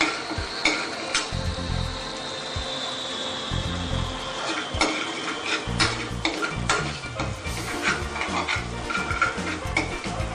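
Ginger, garlic and green chili are stirred together in a cooking pot for Mumbai street-style pav bhaji, with a steady run of scraping and clinking spoon-on-metal sounds and a faint sizzle throughout.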